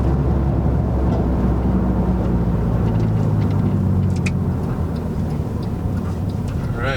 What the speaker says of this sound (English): I'm going to take it for a little ride here and see if it smokes at all.